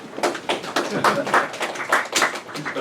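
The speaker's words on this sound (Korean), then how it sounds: "박수 쳐주실래요?" Members of the press clap briefly at a city mayor's budget briefing, a loose patter of distinct hand claps coming in uneven bursts, neither dense nor long.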